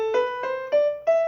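A melodic minor scale is played upward, with a few distinct notes rising one after another, each with a clear attack and sustained tone, close and moderately quiet, without any voices.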